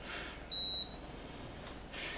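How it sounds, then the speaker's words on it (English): A Mr. Cool mini-split heat pump gives one clear, close electronic beep of about a third of a second as it receives a remote signal, with quiet room hum before and after. "it just beeped and connected up"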